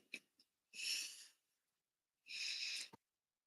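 A person sneezes in two quick bursts of breathy hiss, preceded by a few faint sniffs, close and fairly quiet in an otherwise still room.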